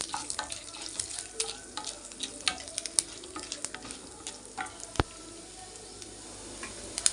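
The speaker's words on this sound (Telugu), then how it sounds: "నూనె తీసుకుని మినపగుళ్ళు వేయించుకోవాలి." Urad dal fries in a spoonful of oil in a pan for a sesame mango pickle, crackling and sizzling steadily with frequent sharp pops and light stirring taps, close and moderately loud; no speech.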